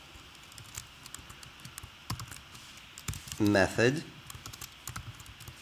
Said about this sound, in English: Type in a JSON RPC frame that calls shadow delta